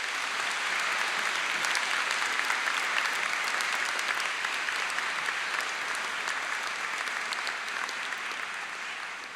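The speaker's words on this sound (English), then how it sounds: "can I now ask our graduates to give a round of applause of thanks to friends and family" Graduates at a University of Dundee summer graduation ceremony applaud their friends and family, a dense, steady hall-filling wash of clapping that holds for the whole stretch and eases slightly at the end.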